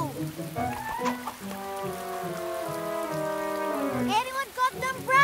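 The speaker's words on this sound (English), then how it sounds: "It's raining a lot now." Steady cartoon rainfall in a Numberblocks children's animation, a continuous patter running beneath music and voices.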